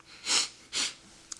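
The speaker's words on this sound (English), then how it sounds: "Next time I sniffle, I'm going to just pause the video" A person sniffles twice, close and clear, two quick breathy inhalations with a brief pause between and no talk.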